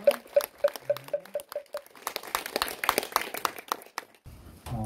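Audience applause at a Korean Seonmudo Buddhist martial arts ceremony, a scattered patter of clapping rising in the middle of the clip, moderately near, with other faint sounds around it.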